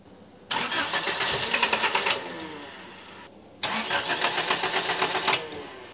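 A Nissan S12's engine on a Speeduino standalone ECU cranks in two loud, close bursts of rapid chugging, each roughly two seconds long, separated by a brief pause.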